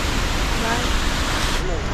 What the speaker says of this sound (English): a short hike will lead you to the magnificent Jezzine waterfall